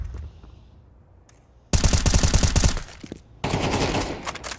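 Automatic gunfire in a Counter-Strike 2 match: two loud sustained bursts of rapid shots, the first a clipped rattling spray, the second a longer dense volley after a short gap, following a quiet stretch.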